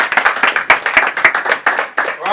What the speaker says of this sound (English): give yourself a round of applause for that, guys